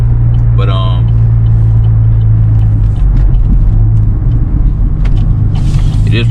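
A Camaro V6 with an MRT V1 aftermarket exhaust rumbles loud and deep at close range, a heavy steady drone with voices heard over it.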